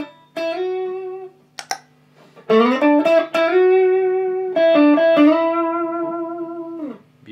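A Yamaha Pacifica electric guitar played through an Ibanez TS7 Tube Screamer pedal rings out in sustained notes and chords, with a couple of brief muted picks between long, loud, bright tones that fade at the end.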